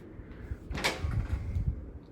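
Cupboard doors in a Las Vegas hotel suite, the Vdara Panoramic Suite, open with one brief wooden clack, followed by a few soft low thumps, heard quietly at close range in an otherwise still room.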